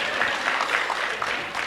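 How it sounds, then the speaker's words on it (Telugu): An audience gives a big round of applause for a comedian at a film event, with dense, steady clapping that holds evenly throughout. "Give him a big round of applause."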